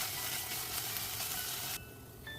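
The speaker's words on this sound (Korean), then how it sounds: "냉동새우를 해본 후 올리브 오일을 두르고 마늘 1스푼을 넣어 볶아줍니다" A spoonful of garlic sizzles in olive oil in a frying pan, a steady close hiss that drops abruptly to a quieter crackle near the end, with no voices.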